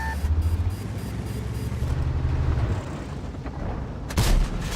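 A German tank gun firing in World of Tanks, a single sharp loud blast near the end after a stretch of engine rumble.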